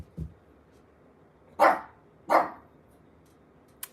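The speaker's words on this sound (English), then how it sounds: "Don't sit there and bark this whole time." A dog gives two loud, sharp barks about a second apart in a quiet setting, with a faint thump at the start and a short click at the end.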